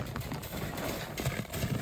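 Hooves of a young mare, about two and a half years old, clip-clop steadily on a hard surface, the irregular beats sitting under a broad noisy background.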